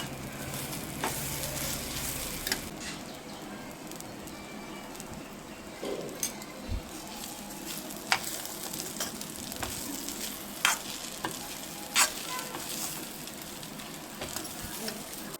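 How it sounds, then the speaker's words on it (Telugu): Upma cooking in a pan with a spoonful of ghee, stirred through: a continuous close sizzle with repeated scraping and clinking strokes of the spoon against the pan, no voices. "ఒక స్పూన్ నెయ్యి వేసుకుని మొత్తం అంతా కలుపుకొని దించేసుకోండి"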